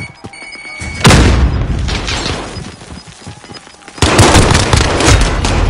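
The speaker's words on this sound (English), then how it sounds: "Grenade out!" A grenade blast and gunfire from the video game Warzone: a heavy boom lands at once, rumbling fire carries on under it, then a second loud, dense burst of explosions and rapid shots fills the end.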